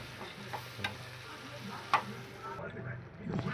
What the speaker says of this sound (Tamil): இஞ்சி பூண்டு பேஸ்ட்டை நம்ம சேர்க்க போகிறோம்.